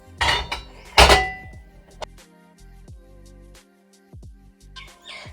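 Washed metal and steel dishes being stacked and put away in a home kitchen, with a few loud clanks and clatters early on, then scattered lighter knocks and rattles at close range.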